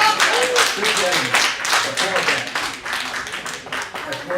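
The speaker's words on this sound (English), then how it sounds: "Authoritative applause." Clapping from the audience at a Hackensack city council meeting, a fairly loud, steady burst of hand claps with voices murmuring underneath.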